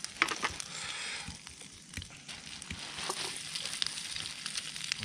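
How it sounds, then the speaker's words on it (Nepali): Light sizzling of food frying in a pan at a riverside camp in Nepal, steady crackle and hiss close by with faint popping throughout and no talk over it. "हल्का फराई"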